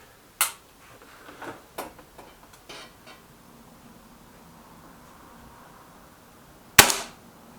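A Kral Puncher K air rifle shot during a head-to-head test against a BSA R12 SLX: a sharp crack near the start, a few faint clicks, then a second loud crack after a quiet stretch.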